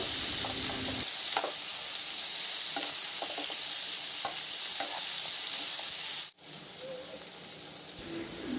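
Green chillies, onion, tomato and ginger garlic stir-fry in a pan with a loud, continuous close sizzle, scraping spatula strokes surfacing now and then, and a brief dip in the hiss near the end before it resumes.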